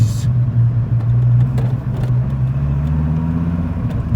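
A Dodge Viper sports car with 121,000 miles on it cruises on a Saturday night, its engine giving a loud, steady low rumble heard from inside the car that rises slightly in pitch as it pulls.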